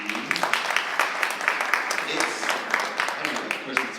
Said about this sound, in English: applaud if you've been here for Christmas Eve